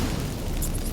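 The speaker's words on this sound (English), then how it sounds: "Get ready for some magic fireworks." Magic fireworks bursting in the video game Witcher 3, a loud, steady rumbling wash of explosions filling the whole second with no clear gaps.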